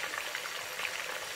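Onion frying in a pan for a goat meat sauce, a steady close sizzle with fine crackling throughout, no voices.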